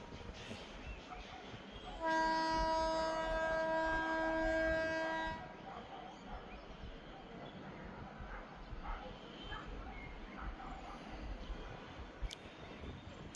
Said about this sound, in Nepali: ए चल्यो ट्रेन पनि हो, ट्रेन पनि चल्न थाल्यो।